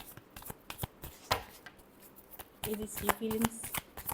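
A deck of tarot cards is shuffled close up, with soft riffling flutters and taps under a voice, which gets louder partway through.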